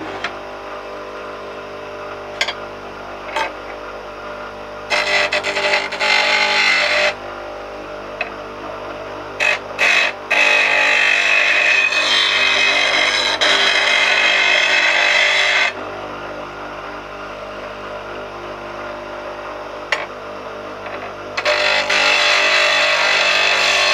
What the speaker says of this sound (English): I've just trimmed the grinding wheel. I'm going to try and sharpen a couple of chisels.